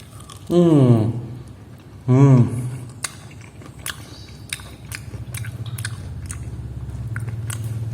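Two loud, close bites into cold, crispy shrimp tempura, followed by a few seconds of quieter chewing and crunching.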